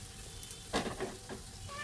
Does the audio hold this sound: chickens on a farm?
no